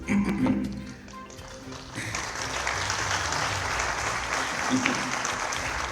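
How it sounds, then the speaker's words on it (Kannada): An audience at a Kargil victory celebration breaks into applause, a dense, steady clapping that builds and holds, with a voice talking over the start. "ಕೊನೆ ಸಾಲಿಗೆ ಜಾಸ್ತಿ ಚಪ್ಪಾಳೆ ಅಂತ ಗೊತ್ತು ನನಗೆ"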